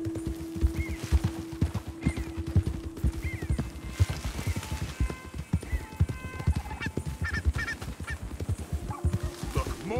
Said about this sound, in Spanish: Ah, pues al final el caballo sí que va rápido y todo